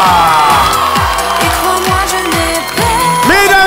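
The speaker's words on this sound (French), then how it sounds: "c'était vos artistes, on les applaudit très fort!" A school audience cheers and whoops loudly for student performers at a secondary-school show, a dense crowd roar over music with a steady beat.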